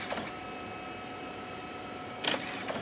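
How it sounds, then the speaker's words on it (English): A DNP dye-sublimation photo printer in a photo booth setup runs with a steady, faint mechanical hum and whine, broken by brief clicks and a short whirring burst near the end as the print advances; no one speaks. "photo sent to the printer"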